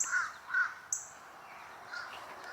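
Crows cawing in a flock as they swarm in at a historic estate in Alexandria, Virginia; two clear harsh calls open, followed by a sharper one and fainter caws trailing off at moderate distance, with no talking.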